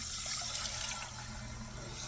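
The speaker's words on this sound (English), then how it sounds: "I'm gonna pour in the water." Continuous rushing pour of water into a pot of toasted rice, steady and close, with a gurgling low tone underneath.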